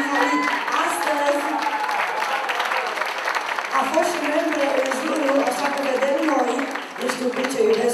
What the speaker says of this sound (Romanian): Haideți să o aplaudăm încă o dată pe Maria Mihalit.